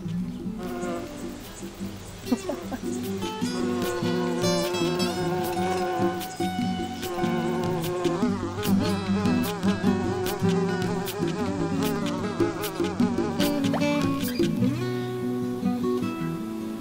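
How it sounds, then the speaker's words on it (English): Dense swarm of bees buzzing steadily around a summer garden on the solstice, a continuous loud droning hum with layered wingbeat tones close by, no talking. "This is the most bees I've ever seen in this garden."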